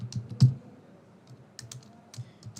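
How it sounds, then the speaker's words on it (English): Someone types a message on a computer keyboard in short uneven bursts of soft, close key clicks, with one louder tap near the start. "let me type another message here"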